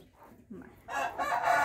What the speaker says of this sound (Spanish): Ay, qué calidad esa gallina